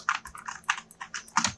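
Rapid bursts of keystrokes on a computer keyboard, close and crisp, clustered in quick uneven runs with brief pauses between them and no voices.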